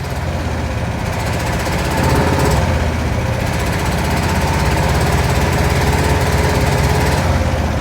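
A 1968 Chevy Caprice engine idles loud and rough nearby, a dense rumbling chug that surges and sags in level as it cuts in and out, with no talking.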